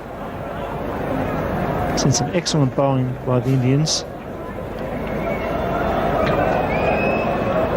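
Large, noisy crowd at a 1992 World Cup one-day cricket match between Pakistan and India, a steady dense roar of many voices filling the whole clip, with a commentator talking over it in the middle.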